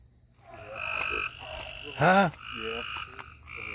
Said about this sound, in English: You think that's frogs?